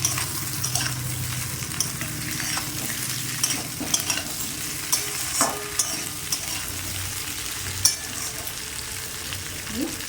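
Potatoes and green banana stirring in hot oil with ginger and onion, a steady sizzle with spoon scrapes and occasional clinks against the pan, close and continuous with no voices.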